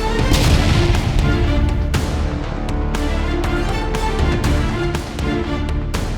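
JDAM-guided bombs dropped by MiG-29 jets striking a mine building in Myrnohrad: a dense, loud barrage of sharp blasts and cracks recurring in quick succession, layered over a continuous heavy roar.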